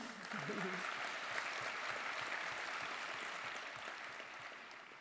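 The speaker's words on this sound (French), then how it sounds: "Oui, on peut l'applaudir." Applause from a medical conference's opening plenary audience, a broad wash of clapping heard from some distance, fairly soft, with a brief voice near the start before the clapping carries on alone and slowly tapers.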